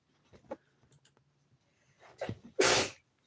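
A single loud, sharp sneeze stands alone near the end, preceded by a quiet breath intake and a few soft clicks and small background noises.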